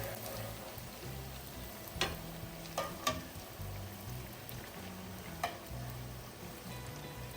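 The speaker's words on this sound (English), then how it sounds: "I'm going to just press in a little hole here so that oil fries." Dough for a Jamaican breakfast fries in hot oil, a steady close sizzle that runs throughout, broken by a few sharp pops and spatters.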